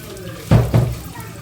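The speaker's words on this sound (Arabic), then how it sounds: "اروح اغسل بشرتي" Tap water at a sink while washing the face, heard as two short splashing bursts of running water close by in a quiet room.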